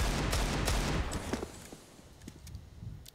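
Bursts of gunfire pierce through a wall in the Counter-Strike tournament game, a dense, loud volley of rapid shots that thins into scattered single cracks.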